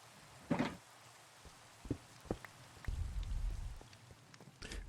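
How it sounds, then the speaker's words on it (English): Rain falling in a video game server, a soft patter with scattered sharper drops, fairly quiet and heard alone. "It rains so often on the server"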